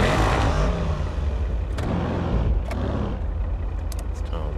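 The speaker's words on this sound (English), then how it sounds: "Yep, that is what I'd call a V12 noise." Benefactor Schafter V12 engine in GTA V, a loud continuous close engine rumble that stays steady throughout with no talking.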